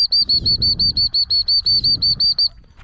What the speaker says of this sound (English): That's probably enough with the whistle.